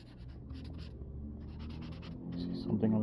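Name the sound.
drawing comic thumbnails on paper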